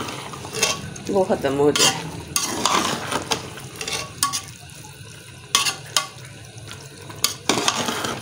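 Aloo matar keema biryani mixture is stirred in a pot over high heat, giving irregular scraping strokes and light metallic clinks over a low sizzle, with a brief spoken phrase near the start.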